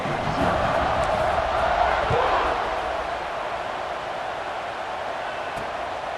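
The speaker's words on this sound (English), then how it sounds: "this crowd now ready to get behind them" A stadium crowd in EA Sports College Football 26 roars and cheers before a kickoff, a broad, dense wash of noise that stays loud at first and then eases slightly as it carries on.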